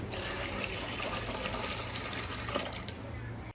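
Water pours steadily and close by into a blackened cooking vessel being cleaned in a kitchen, a dense continuous splashing rush that fills the whole moment before stopping abruptly.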